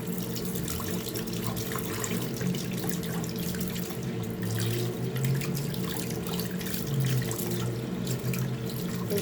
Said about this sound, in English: So you try to rinse it off.